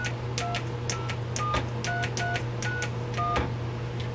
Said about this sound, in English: it interfaces directly to a keypad, so we can just dial the phone number.